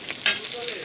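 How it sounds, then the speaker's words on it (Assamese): Vegetables fry in oil in a pan, giving a brief steady sizzle with a soft stirring scrape partway through. "ভালদৰে ভাজি লৈছোঁ।"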